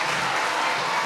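Brief burst of audience applause and crowd clapping for a singer at a beach talent-show finale, dense and loud throughout, no talking.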